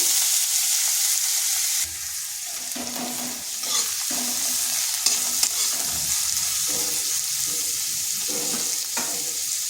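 Chopped onion frying lightly in a pan gives a steady bright sizzle throughout, broken by the scrape and clatter of stirring. The sound is close and alone, with no talk.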